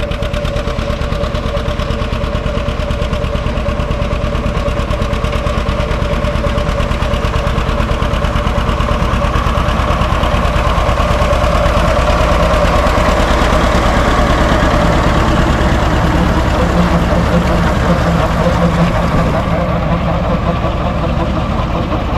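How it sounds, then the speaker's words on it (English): A diesel 730 tractor engine runs hard while hauling manure on a farm, giving a loud, steady close-up throb with a continuous low rumble and no breaks. "my brother's hauling hard manure right now with the 730"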